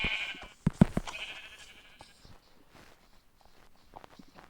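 Sheep bleat in a Minecraft-style survival game on open plains, a couple of quick bleats near the start with footsteps and faint game sounds trailing off afterward.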